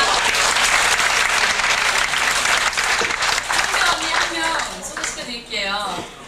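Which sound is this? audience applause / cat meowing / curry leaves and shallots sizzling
audience applause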